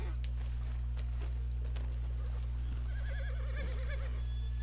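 A horse in the video game Red Dead Redemption 2 whinnies with a wavering neigh over a steady low rumble, alongside a few hoof clops and soft ambient sounds.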